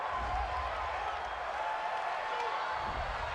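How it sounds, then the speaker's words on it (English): A home crowd in the Madden 20 football game, Cowboys at Packers, roars in a steady, loud wash of cheering that holds evenly throughout. "This home crowd, they're happy with that call."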